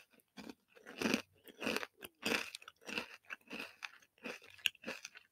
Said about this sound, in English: just like these, like, potatoes. They're crunchy as well, but they also have, like, a spice to them